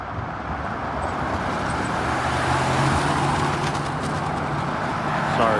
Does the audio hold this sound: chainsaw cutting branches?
no